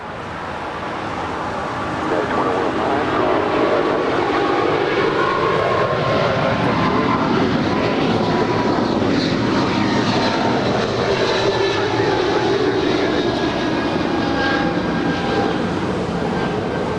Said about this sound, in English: We now have United Airlines 2213 Heavy rolling 25 right, departing to Newark Liberty.